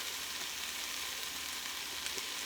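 Garlic sizzles in a pan for lentil soup, a steady, even hiss of frying that runs unbroken throughout, fairly quiet and with no one talking.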